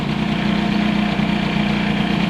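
A Peugeot 103 moped with an Airsal 65 kit runs steadily at idle, a loud continuous buzzing two-stroke drone with a fast even pulse and no talking.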